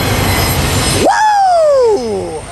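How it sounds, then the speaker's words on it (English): A westbound freight train led by a GE ACe locomotive passes loudly, with a steady rumble and a sharp horn-like tone that rises then slowly glides downward as it goes by. "here comes the westbound with an ace lead"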